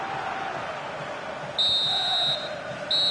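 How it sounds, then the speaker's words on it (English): A referee's whistle ends the first half of a FIFA video game soccer match, with a long shrill blast followed by a shorter one. Both are loud and piercing over a low crowd murmur. "The referee's whistle, the first half stopped."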